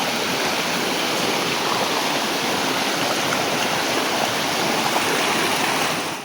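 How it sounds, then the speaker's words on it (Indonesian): Forest stream along a jungle trek toward Curug Kutu waterfall, rushing water as a loud, continuous broadband wash close by, with no voices. "Dan ini juga merupakan aliran sungai."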